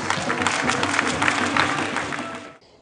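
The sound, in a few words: audience applause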